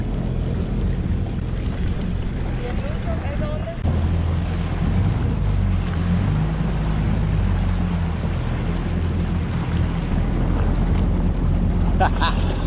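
A jet ski ride on a bay, with a steady engine drone and roar mixed with heavy wind buffeting and water rush, continuous and close throughout.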